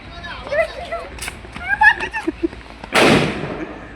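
Children chatter and call out outdoors, then a firecracker goes off with one sharp, loud bang near the end, followed by a brief decaying crackle and rush.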